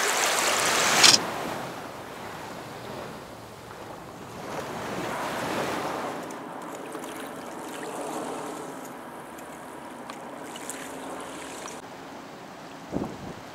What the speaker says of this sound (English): The tide's just on the way in now